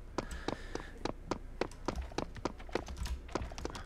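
Hooves clip-clopping in the Serious Sam video game, a steady run of sharp, evenly spaced taps close up, going on for several seconds.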